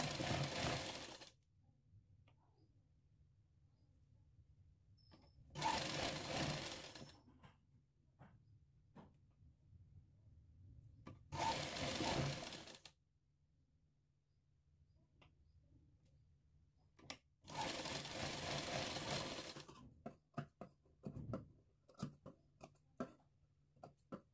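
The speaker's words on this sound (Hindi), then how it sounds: "इस पर भी मुड़कर सिलाई लगा लेंगे।" Sewing machine stitching along a folded fabric edge, heard in four bursts of steady whirring separated by quiet pauses, with scattered small ticks and clicks in between; no one talks.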